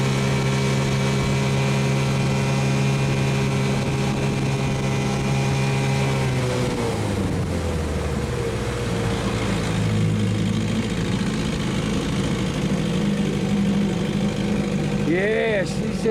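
A 6 hp Evinrude outboard motor runs on a boat, first a steady idle with clear tonal hum, then the pitch shifts lower and rougher as it pulls away, staying loud throughout.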